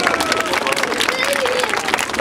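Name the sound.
applause welcoming a paratrooper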